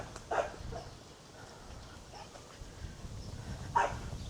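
Two sharp barks from a dog at a squirrel, one near the start and one near the end, separated by a quiet stretch of faint background noise.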